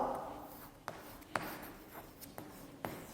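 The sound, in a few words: teacher writing an application letter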